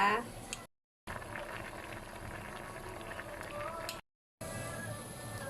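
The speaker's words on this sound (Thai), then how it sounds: "น้ำเดือดแล้ว" Water boils in a pot on the stove while lotus root cooks, a steady bubbling hiss broken by two brief silent gaps, moderately quiet.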